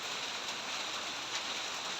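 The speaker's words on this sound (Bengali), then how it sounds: "দেখেন কি পরিমাণে ঝড় বৃষ্টি আইছে" A morning storm brings a steady, even hiss of falling rain, fairly faint and constant throughout, with no voices.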